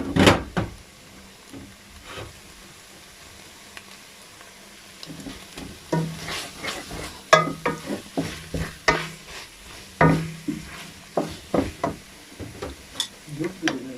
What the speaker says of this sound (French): Je vais rajouter l'ail haché.